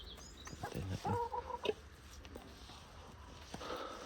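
Pet chickens cluck and chirp in short bursts at close range, with soft background noise between calls.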